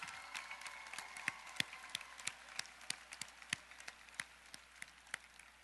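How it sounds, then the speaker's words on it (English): Graduation audience at Baton Rouge Magnet High School applauding the teachers and staff in 2014, with scattered individual claps and sharp slaps heard fairly distantly over a hall's murmur. "Give them a round of applause"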